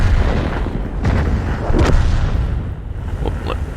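Artillery fire in the World of Tanks video game: a few heavy, loud booms and rumbling blasts follow one another over a dense, noisy battle backdrop.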